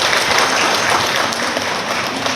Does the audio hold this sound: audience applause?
yes